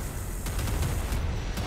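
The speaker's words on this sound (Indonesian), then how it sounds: "meriam laser ya, kayak gini ya." Laser cannon fire from a warship in the naval combat game Modern Warships, a rapid run of booming, crackling shots layered over dense, loud battle noise with no talk.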